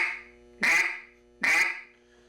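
Two loud, nasal duck quacks blown through a duck call, each a short burst evenly spaced about a second apart, with quiet gaps between.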